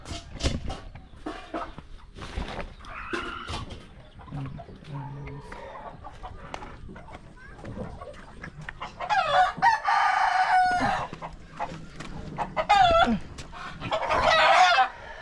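Chickens cluck and squawk throughout, with roosters crowing loudly in the latter half amid scattered farmyard noise.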